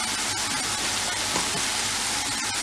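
Apples with added sugar sizzle steadily in a hot pan for apple pie cheesecake topping, a continuous close, bright frying hiss with no talk.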